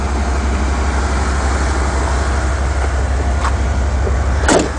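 Chevy Caprice station wagon engine idling, a low steady rumble holding evenly throughout with a faint clatter near the end.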